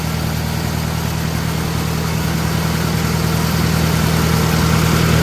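A Farmall A tractor idles just after starting, a steady close-up low chugging with an even pulse that holds throughout, with no other sounds.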